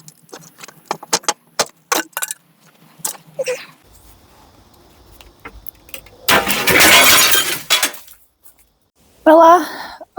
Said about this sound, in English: oops, I broke the glass